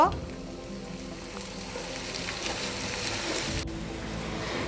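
Ginger and garlic paste frying in hot oil in a pan, a steady, close hiss of sizzling with a soft rise after it hits the oil, continuous over several seconds with no voice.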